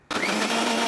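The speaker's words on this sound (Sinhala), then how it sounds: "අපි යමු බ්ලෙන්ඩර් කරගන්න" A blender whirring as it blends homemade juice, a loud, steady motor roar that starts abruptly and holds for under a second, close by.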